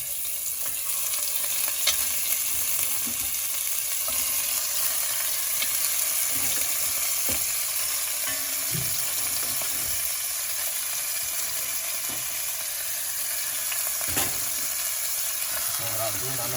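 Marinated baby back ribs fry in extra virgin olive oil in a hot pan, a steady, close sizzle and hiss running the whole time, with occasional light scrapes and clicks of a utensil.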